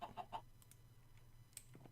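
A Minecraft chicken in the Farming Valley modpack gives a quick run of three soft clucks, then faint scattered clicks and a couple more low clucks, quiet and close.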